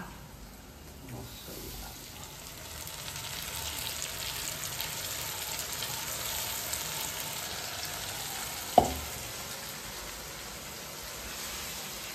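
Onions fry to golden brown for a country chicken curry, giving a soft, steady sizzle at low level, with one sharp utensil clink partway through.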